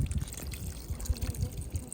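Water drains from a hot water heater being flushed, a steady low gurgling rush with irregular pulses that runs throughout without pause.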